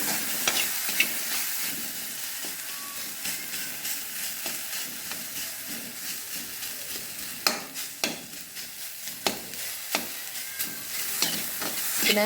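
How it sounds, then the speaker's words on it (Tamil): Sliced okra sizzles steadily in a hot frying pan while a spoon stirs it, with scattered scrapes and clicks over a continuous loud hiss, close and without talk. "லைட்டாக அப்படியே கிண்டி விட்டுட்டு"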